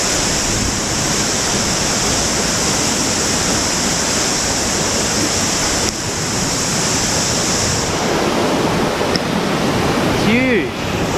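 A fast creek rushes loudly and steadily nearby, a thick constant wash of water that eases slightly toward the end, where a brief whistle-like sound cuts through.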